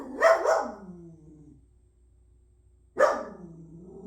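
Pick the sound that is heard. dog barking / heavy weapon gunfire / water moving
dog barking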